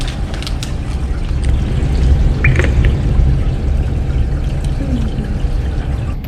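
Water from a seahorse and coral reef aquarium tank pours into a container in a steady, rushing splash with small trickling bits, fairly loud and close.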